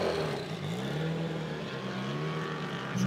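The turbocharged 2.3-litre flat-four of a 1983 Subaru GL wagon gymkhana car, rated around 860 horsepower, rumbles and revs at a moderate distance, a steady burbling drone that swells slightly at the end.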